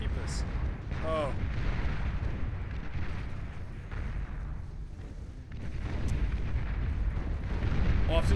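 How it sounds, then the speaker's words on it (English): Plasma cannons and machine guns fire in the Beyond All Reason strategy game, a dense, rumbling barrage of booming blasts and rapid gunfire that continues without break, under a continuous wash of battle noise. "firing away with those multiple kinetic kill weapons. Plasma cannons, as well as the machine guns"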